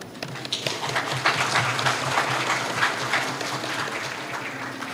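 A crowd applauds steadily for several seconds at a university graduation ceremony, many hands clapping together at an even, sustained level.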